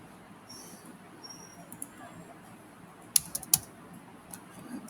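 A few faint, quick keystrokes tapped on a computer keyboard in a quiet room, clustered in a short burst near the end.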